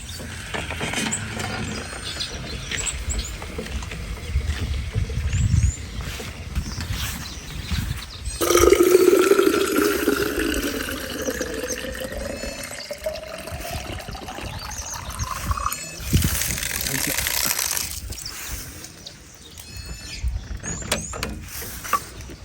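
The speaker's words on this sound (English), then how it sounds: "I'll be going to refill my water bottle in that tank there" A water bottle is refilled from a water tank: a rising gurgle and trickle of water filling the bottle over several seconds, with mechanical clicks and handling noises before and after.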